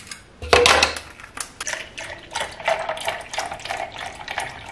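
Two heaped teaspoons of Bonvita drink powder go into a water and milk mixture, with a sharp clink of metal spoon on the container at the start, followed by a run of softer scraping and tapping sounds.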